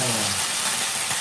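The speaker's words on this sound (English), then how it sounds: "while we're pan frying this" Ground meat frying in a covered pan after a splash of water, a steady close hiss and crackle with no talking.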